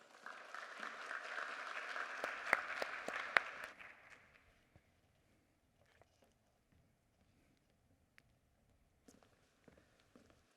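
Audience applause at a school-community fitness event in St. Charles Parish, a warm steady clapping from a room of people that swells for about four seconds, then fades into scattered faint claps and footsteps.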